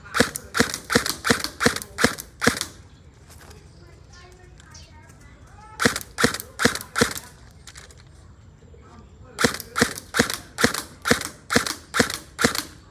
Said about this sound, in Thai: เรายิงขวดให้ดูนะผม ขออนุญาตยิงไปที่เซมิก่อนนะผม